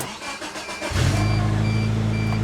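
A Geo Tracker's starter whirs for under a second before the engine fires and settles into a loud, steady idle recorded close by.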